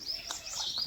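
Soft, thin bird chirps repeat faintly through a short outdoor moment on a farm, with a few brief call bursts and no talking.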